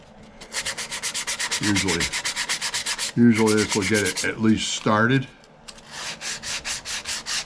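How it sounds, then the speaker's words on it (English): Wooden box being sanded by hand, heard as rhythmic back-and-forth scratchy strokes close to the microphone, with someone talking over part of it. "We'll just give it a little sanding."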